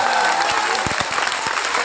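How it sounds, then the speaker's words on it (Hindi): Loud, dense applause from a mushaira audience in Bihar fills the hall, with many hands clapping at once and a few thumping low knocks beneath the roar of the crowd. "तमाम लोग एक बार जोरदार ताली बजा कर"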